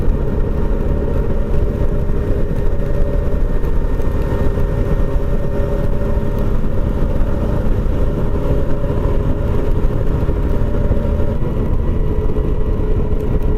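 Steady motorcycle engine drone and wind rumble recorded from a chin-mounted helmet camera while riding along the wine route from Rio de Janeiro, a constant loud mid-low hum with no talk.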